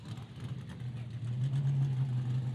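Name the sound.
loud Corvette engine idling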